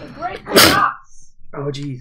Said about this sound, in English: Apologies for this sneeze as I went past the mic there.